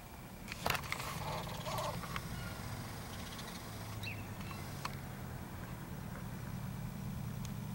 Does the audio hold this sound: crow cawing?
yes